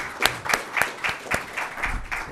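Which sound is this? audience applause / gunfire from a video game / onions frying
audience applause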